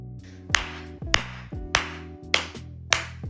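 Five slow, deliberate hand claps ring out, evenly spaced about half a second apart, sharp and close, with a low music bed or hum underneath and no talking.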